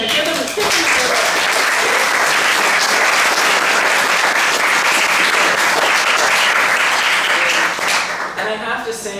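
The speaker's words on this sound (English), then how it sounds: "give them a quick round of applause" Loud, sustained applause from a crowd at a poetry book launch evening, dense clapping throughout that tapers off at the end as a voice begins speaking.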